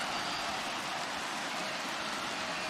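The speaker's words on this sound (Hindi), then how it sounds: "बारिश हो रही है." Rain falls in the background as a steady, even broadband hiss, continuous and unbroken, with no voices over it.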